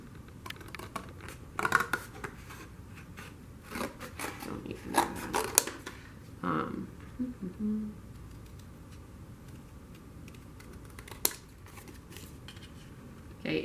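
Scissors snip through a paper template for a hexagonal slab lantern, a quiet, irregular run of close crisp cuts with short pauses between strokes.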